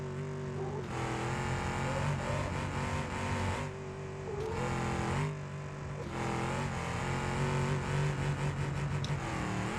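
A struggling, damaged car engine in BeamNG.drive during an endurance torture run, droning and straining at high revs in long sustained stretches with a few brief dips and surges, steady and fairly loud, with no voices.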